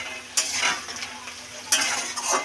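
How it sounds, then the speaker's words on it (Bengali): Reddened, browned onions and spices fried together in a pan for kochu ilish are turned over with a spoon: a soft sizzle broken by two sharp metal scrapes and clinks against the pan. "আর একটু নেড়ে চেড়ে নেবো সব একসাথে"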